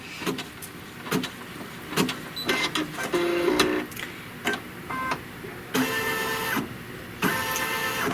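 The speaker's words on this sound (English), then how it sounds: "It's going to stitch the placement line for the stem" An embroidery machine stitches a placement line for a stem, giving a steady mechanical whir broken by repeated sharp clicks and short motor bursts, close and alone with no talking.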